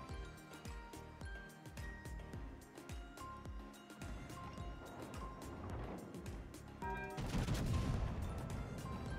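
Heavy gunfire in the naval video game World of Warships from a Tier VII British battleship, HMS Rooke, with repeated booming shots over a steady engine-like rumble that swells louder toward the end.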